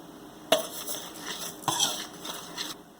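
Salt, baking powder, sugar and other dry ingredients are combined in a bowl: two sharp clinks of a utensil against the bowl, then softer scraping and stirring, quiet and close.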